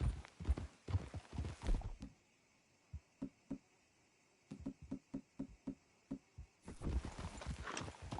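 Horses' hooves clip-clop in an uneven walking rhythm in Red Dead Redemption 2, a dense cluster of clomps, then spaced single steps, then a busier patter again.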